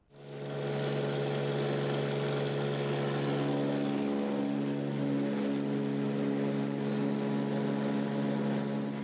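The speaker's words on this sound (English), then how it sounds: "As the plane dips and bobs just under the clouds, Theo clings to the familiar shoreline of the islands" A small propeller plane drones steadily at close range while flying low under clouds along the Aleutian island shoreline, a loud continuous engine hum with no talk.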